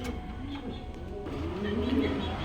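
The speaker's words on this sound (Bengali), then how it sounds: "হ্যাঁ দর্শক এখানে এক পেয়ার কবুতর আছে দেখেন" A pair of white Lahori pigeons coos in soft, rolling, repeated calls close by, under someone talking.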